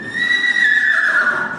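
A horse lets out one loud, close whinny, a sustained high neigh that wavers and slowly falls in pitch over about a second and a half.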